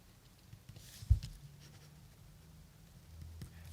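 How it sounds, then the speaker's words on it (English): A pen signing original Lobo and Cerebus sketches makes soft, close scratching strokes on paper, with one brief tap and faint room noise around it. "This is a Lobo sketch and a Cerebus sketch. I'll sign them now."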